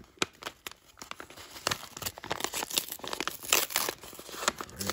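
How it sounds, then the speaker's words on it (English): Packaging shipped from Japan being sliced and torn open with a razor blade, a rapid run of close, sharp rips, crinkles and scraping cuts that crowd together for about five seconds, with no one talking. "Let's get our trusty razor. Make a nice cut."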